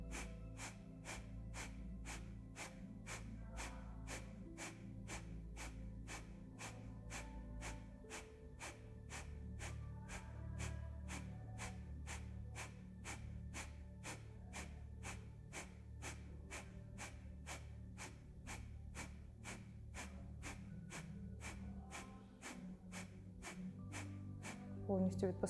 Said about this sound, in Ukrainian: І з видихом капалабхаті без рахунку в комфортному для вас ритмі.